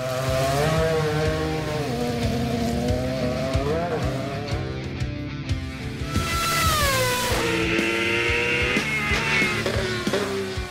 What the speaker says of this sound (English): This is the first time Max will drive a Formula One car on the limit.